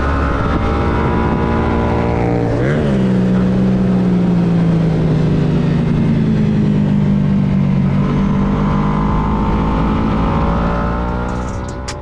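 A car engine drones loud and close throughout, with a rising and falling tone as it accelerates and shifts, steady road noise carrying on underneath.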